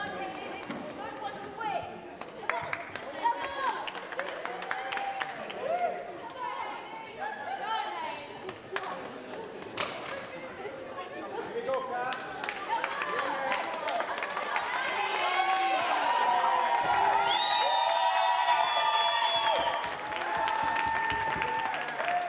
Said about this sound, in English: Crowd really urging on the Nottingham player.